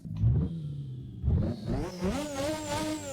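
A racing car with a turbocharged 1.5-litre Honda V6 revs hard twice in short bursts, then climbs steadily through the gears, loud and close with rising pitch.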